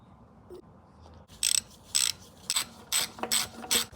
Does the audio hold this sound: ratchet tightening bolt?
yes